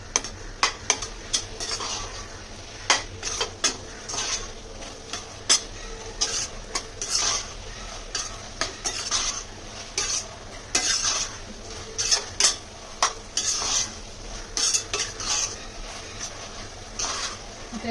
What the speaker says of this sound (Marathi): पेस्ट पण चांगली परतून घेऊया कच्चा वास जाईपर्यंत